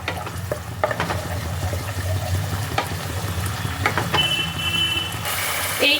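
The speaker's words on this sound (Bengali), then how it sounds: "টমেটো পেস্টটাকেও মশলার সাথে দু তিন দু তিন মিনিট নাড়াচাড়া করে ভালোভাবে মিশিয়ে নিতে হবে" Tomato paste being stirred with spices in a pan for Kashmiri stuffed aloo dum: steady scraping strokes and a soft sizzle over a low background rumble, with no talking.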